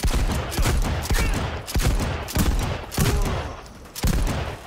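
Rapid, loud shotgun blasts in Cyberpunk 2077, about five or six heavy reports in an uneven rhythm against a dense background of game noise, with no talking.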